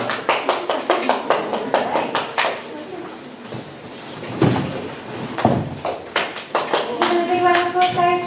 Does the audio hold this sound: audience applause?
yes